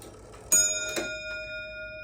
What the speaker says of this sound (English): This clock has dual chimes, so it chimes on the half, on the quarter, and it sounds different than when you get it to the hour